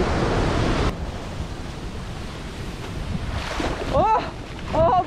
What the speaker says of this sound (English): I got a big splash of water.